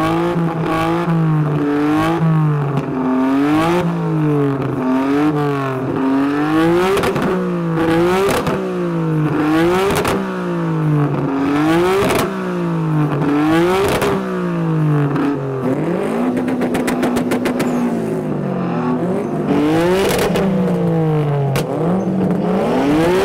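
Japanese cars at the JapFest show revving hard, with repeated rising and falling engine wails and sharp throttle blips in a rapid, irregular rhythm, loud and close with no talking.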